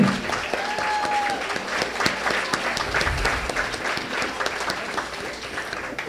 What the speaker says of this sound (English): Let's give a warm applause again to our